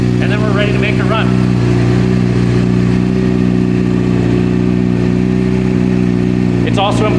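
A motorcycle strapped onto a dyno drum, with cooling fans aimed at it, runs at a steady idle. Its engine gives a loud, even drone with a low hum that holds throughout, and a voice speaks briefly near the start and end.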